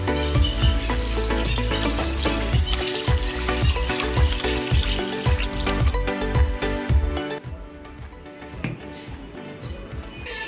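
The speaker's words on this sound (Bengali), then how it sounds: "এবার আমি মাংসটা ভালো করে ধুয়ে পরিষ্কার করে নিই" One kilogram of goat mutton pieces is washed by hand in water in a bowl, with splashing and sloshing close up. Music plays underneath, and the sound thins toward the end.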